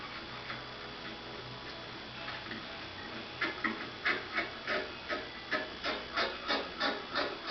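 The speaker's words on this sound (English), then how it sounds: "Now I just use my chisel to remove all the excess hot glue and epoxy." A chisel scrapes excess hot glue and epoxy off a solid surface countertop, beginning as soft rubbing and building into a steady series of rhythmic, rasping strokes up close.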